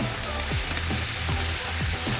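Skinless, boneless chicken thighs fry in a pan for a teriyaki dish, giving a steady, close sizzle with soft stirring or shifting noises throughout.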